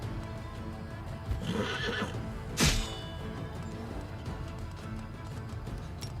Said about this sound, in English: I definitely underestimated the plagued horses here.